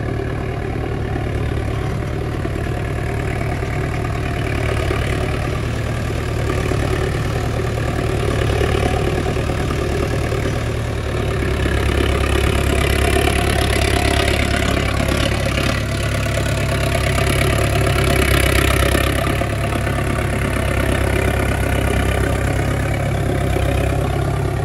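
A Sonalika DI 750 III Sikander tractor engine runs under load with a loud, continuous low diesel drone and knock that stays steady and close throughout, without talk.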